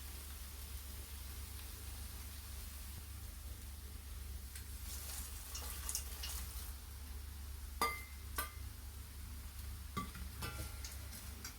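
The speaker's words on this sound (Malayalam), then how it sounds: "ഇതെല്ലാം ചേർത്തിട്ട് നന്നായിട്ടൊന്ന് ഇളക്കുക" Soft beaten rice flakes, sweetened, stirred with fried ingredients in a pan: a faint steady hiss with a few quiet scrapes and clicks of the spoon, no voices.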